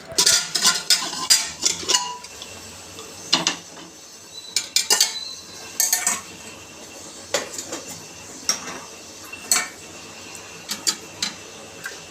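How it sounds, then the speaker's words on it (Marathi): Metal clanks and scrapes as a pressure cooker lid is worked loose and lifted after steaming bitter gourd, with scattered sharp clinks of pots and utensils nearby. "त्यानंतर आपण हे काढून घेतो आहे झाकण"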